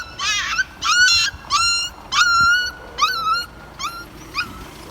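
A mother dog and her puppies found in the road at night whimper and yip, a series of high, wavering whines in short bursts of about half a second, loud and close with no talk.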